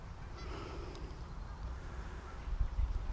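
Canada geese honk in the distance outdoors, a few faint nasal calls drifting over low wind rumble, with a louder gust of handling noise near the end.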